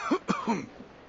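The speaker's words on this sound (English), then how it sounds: "you seem to have quite a severe cough" A man coughs three times in quick succession, rough and close, then the sound fades, in the video game Reverse: 1999.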